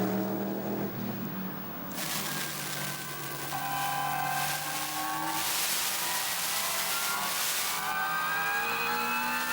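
Race cars at the Nürburgring 24 Hours in 2004, a BMW and a Zakspeed Viper dueling on track, roar loudly and continuously with rising and falling engine pitch as they pass close by, with no talk.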